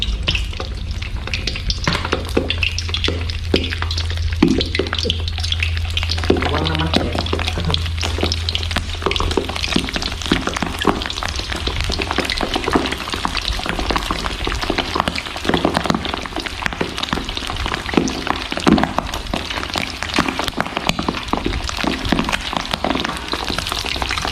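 Pork pieces fry skin side down in hot oil, giving a loud, continuous crackling sizzle with stirring that fills the whole stretch without talk.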